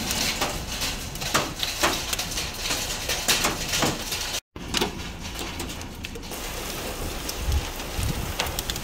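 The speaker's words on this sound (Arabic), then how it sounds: "بداية نزول المطر الآن. لا إله إلا الله، نزول البرد" Heavy rain with hail in strong wind in the north of Baish, Jazan, drumming densely on a nearby surface with sharp scattered impacts throughout, briefly cut out midway, with no talking.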